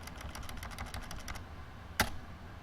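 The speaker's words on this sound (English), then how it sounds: "wonder if we can type in Salem" Quick, light keystrokes tapped on a computer keyboard in a rapid burst, then a pause and one sharper key press, close and quiet with no talking.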